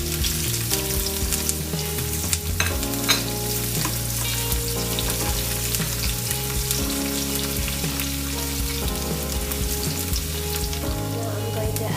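Garlic and ginger fry in a hot pan with a loud, continuous sizzle, while repeated scraping and stirring strokes sound close by throughout.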